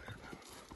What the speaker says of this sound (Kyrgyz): Жаныбарның жүгүрүштөрүн караңыздар. Достор, кандай ат экен көрүңүздөр.